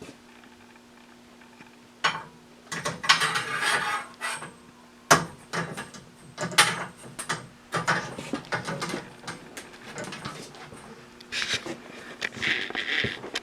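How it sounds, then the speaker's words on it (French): A saw blade is fitted onto a BMT 100 blade setting machine for sawmill blades, giving a series of uneven metallic clanks, knocks and scraping handling noises at close range, with a steady low hum underneath and no talk. "maintenant, on va mettre une lame sur la machine pour pouvoir finir l'ajustement"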